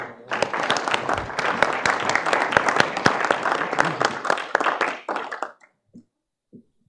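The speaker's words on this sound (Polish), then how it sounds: "Wielkie brawa!" Loud, sustained applause from a crowd at a county council session, dense clapping for about five seconds before stopping abruptly, followed by a couple of faint taps.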